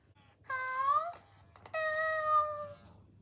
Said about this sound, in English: all these animatronic cats being switched on at the same time